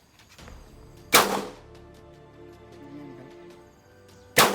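Two sharp, loud shots from a .45 caliber STI Spartan all-steel pistol being test-fired, spaced about three seconds apart, each a hard crack with a short ringing decay, with quiet handling noise between them.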